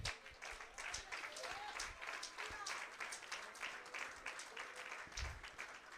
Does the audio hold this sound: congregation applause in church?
yes